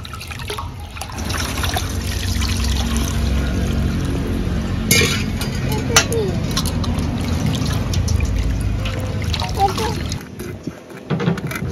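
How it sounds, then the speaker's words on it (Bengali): Water pours and trickles steadily as a hilsa fish is washed in a village-style kitchen, with splashing and dripping up close and brief handling knocks. "দেখুন পরিষ্কার পরিচ্ছন্ন করে ধুয়ে নিচ্ছি।"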